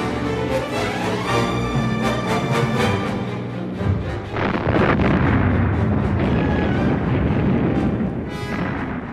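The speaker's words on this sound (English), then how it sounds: "the Allies then bombed it" Allied bombing of the monastery at Cassino during World War II, a dense continuous roar of rumbling explosions that is loud and sustained, with a heavier, deeper burst of blasts rolling in partway through.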